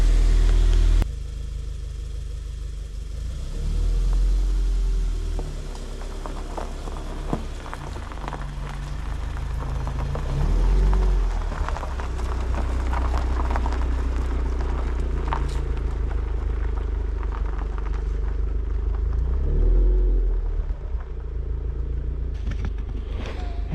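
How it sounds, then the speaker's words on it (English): A Scion FRS, Subaru BRZ or Toyota GT86 on 17-inch wheels out on a test drive after a cam plate leak repair, its engine a steady low drone throughout with road noise and faint, shifting revs, no talking. "So now it's time for the test drive."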